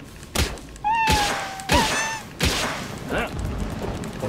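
Cat-like creatures in the video game Palworld meowing: several short, close meows and one longer rising mew, mixed with heavy thumps from blows.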